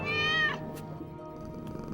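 A cat meows in a scene from the animated film Atlantis: The Lost Empire, a single drawn-out, close meow in the first half second over a steady soundtrack bed.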